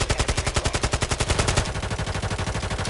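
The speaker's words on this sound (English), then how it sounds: "Oh, he's shooting." Rapid automatic gunfire from the video game Call of Duty MW3 Warzone, a loud steady burst of evenly spaced shots running through the whole stretch, slightly denser and heavier near the start.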